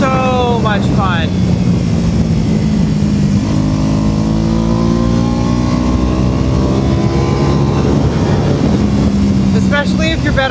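A classic 250 motorcycle engine revving hard while riding, close and loud with rising and falling pitch sweeps as it climbs through the gears over constant wind noise.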